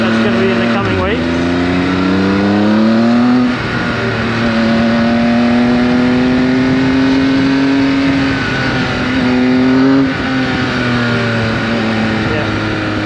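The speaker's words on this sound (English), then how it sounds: "I just love the howl in these bikes." A loud 2019 Triumph Speed Triple RS motorcycle engine howls close by, its pitch climbing and falling as it revs and shifts through gears.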